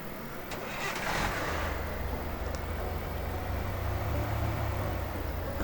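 Car driving through hilly terrain outside a mansion in the video game Thief Simulator, a steady mid-pitched engine drone that holds evenly throughout with no talk.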